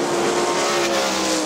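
Sprint cars race on a dirt oval at Hartford Speedway Park, exiting turn four in a close fight for position, a loud, steady wall of engine roar holding throughout with a high droning pitch.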